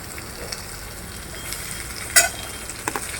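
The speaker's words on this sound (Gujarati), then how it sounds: "પછી આ સરસ મજાનું સાતળાઈ ગયું છે ને એમાં આપણે નાખી દીધા છે ટમેટા" Onions browning with freshly added tomatoes, sautéed for sambar, give a steady soft sizzle with scattered stirring scrapes and one sharp clink of a spoon against the pan, close by and with no talking.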